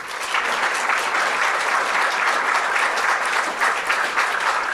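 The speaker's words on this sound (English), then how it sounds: "a round of applause, please" An audience applauds after a debate, giving steady, dense clapping that stays loud and even throughout with no talk over it.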